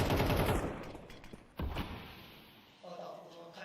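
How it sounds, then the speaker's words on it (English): Close-range SMG fire in a Counter-Strike match, a quick rattling burst at the start followed by sharp isolated shots and a fainter clatter, with voices mixed in. "A lot of SMGs at close range."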